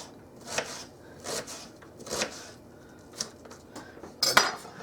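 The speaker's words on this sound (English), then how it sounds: "I'll just get all these cut up and we'll go from there." Knife work on a cutting board while preparing ingredients for a crock pot sausage and corn chowder: irregular, close-up clicks and taps of a blade striking the board, with small clinks of utensils between cuts and no talking.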